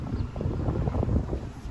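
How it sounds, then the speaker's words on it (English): Strong wind buffets a microphone on a rooftop beside an old walk-in cooler unit, a steady low roar with gusty rumbling throughout, loud and close with no voices. "As you can see, it's extremely windy today."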